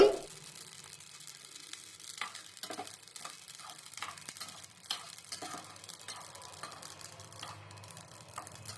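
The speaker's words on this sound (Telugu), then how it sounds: "మస్టర్డ్ సీడ్స్ ఆవాలని వేసుకున్నాము వీటిని డ్రై రోస్ట్ చేసుకోవాలి" Mustard seeds dry roast in a pan for an Andhra amla pickle, making a faint, steady crackle and sizzle with scattered ticking pops and occasional stirring scrapes.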